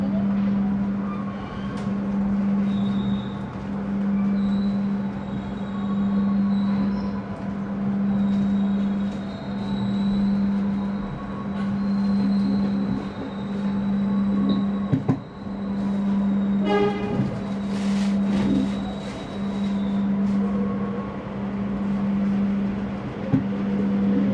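Argo Lawu passenger train from Solo toward Jakarta, heard from inside the rearmost car: a steady, loud rolling rumble with a constant low hum and occasional clunks and rattles, no talk.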